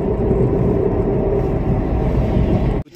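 A steady low hum and rumble from a moving car with a worn front wheel bearing, droning constantly without change before cutting off abruptly at the end.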